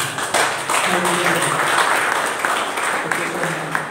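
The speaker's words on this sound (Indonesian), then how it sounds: "Tepuk tangan buat Tuhan." A church congregation at a worship service claps, with soft hand claps sounding under continuous talk and background music for a few seconds.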